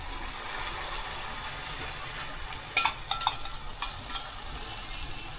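Tomato puree poured into onions frying in a pan for a Gujarati rajma-potato curry, giving a steady soft sizzle with a few brief crackling bursts partway through, close and fairly quiet.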